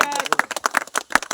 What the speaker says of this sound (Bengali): ভাইয়ের জন্য একটা হাততালি জোরে